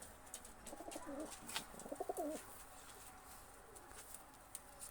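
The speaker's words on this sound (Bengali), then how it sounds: "কবুতর দুটো আমি ছেড়ে দেখাচ্ছি দেখেন" Pakistani high-flyer pigeons coo softly nearby after being let loose, two short throaty bursts of cooing over faint background noise and a few light rustles.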